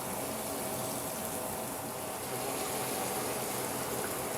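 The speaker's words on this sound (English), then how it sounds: "Inside the stock, we're going to add some Berkshire stock, as we call it." Stock poured into a pan for a Christmas dinner, a loud, constant gushing of liquid that holds steady throughout, with no talk over it.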